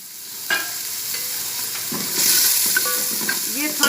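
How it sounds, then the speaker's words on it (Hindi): Continuous hissing sizzle of garlic paste frying in hot oil for karhi pakora, with occasional stirring clatter and a brief faint voice in the background. "अब इसमें डाल दूंगी मैं लहसुन का पेस्ट।"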